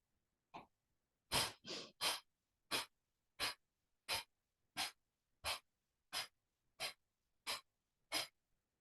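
Twelve sharp, forceful exhalations during a yoga breathing practice, a single burst followed by a steady run of evenly spaced breaths out at close range in a quiet room.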